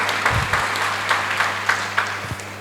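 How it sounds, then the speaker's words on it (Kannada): Scattered audience clapping at a talk show, sparse individual claps rising and fading under a steady hum. "ಹಾಕಿ ಚಪ್ಪಾಳೆ."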